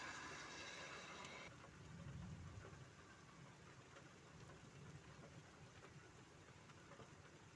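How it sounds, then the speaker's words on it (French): Low thunder rumbles through steady rain during a stormy depression with strong electrical activity and gusts, a broad deep roll swelling early and then lingering under the constant hiss of rainfall. "Magnifique le bruit du tonnerre là."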